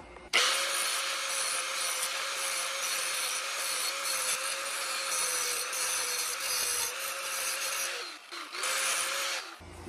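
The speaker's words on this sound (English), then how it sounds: "right now we're gonna start grinding, get a little bit of footage of that" A grinder working steadily on a retro mod frame during restoration, a continuous loud abrasive whine that holds nearly unbroken for ten seconds, dipping briefly near the end before resuming.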